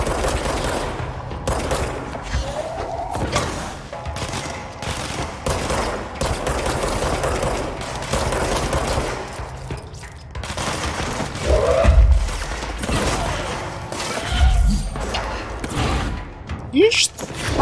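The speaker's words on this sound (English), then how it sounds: "Did you really just shoot a sniper at me, you douchebags?" Enemy gunfire in the video game Control, including sniper rifle shots, as a dense, continuous barrage of shots and thuds, loud and close, with a few heavier booms near the end.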